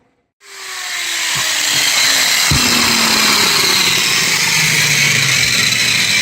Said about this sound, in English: Clean it up on the grinder